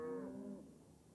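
A single short cow moo, low and tonal, fading out within about half a second, fairly faint with no voices.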